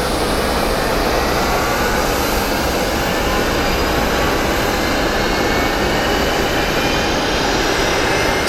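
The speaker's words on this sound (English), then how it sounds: "Columbus Southwest 2625, pushing off of 3." A Southwest Airlines jet pushes back from the gate at Columbus Glenn Airport, its engines giving a loud, steady, broad roar that fills the scene without letup.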